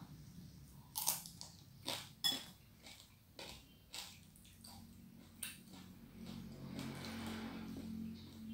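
Freshly caught fish being eaten at close range in a mukbang, with irregular crunchy bites, soft wet chewing and a few faint clinks of cutlery, all quiet and without talk.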